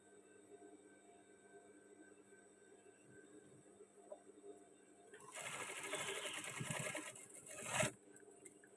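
A sewing machine topstitches the cuff of a men's batik shirt in one short loud burst of about two and a half seconds, after a stretch of quiet room tone.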